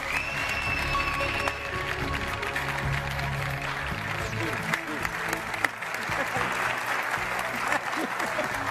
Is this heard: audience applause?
yes